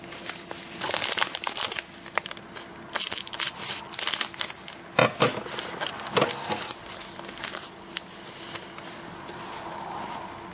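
Buddyfight Cyber Ninja Force trading card booster packs are torn open, giving close, loud bursts of foil crinkling, ripping and crumpling in irregular clusters that ease off to quieter handling toward the end.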